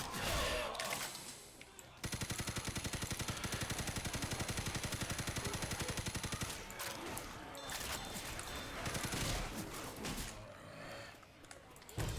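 Rapid automatic gunfire rattles in a sustained burst in the zombie shooter Left 4 Dead 2, with more scattered shots and game noise around it and a voice talking over the action.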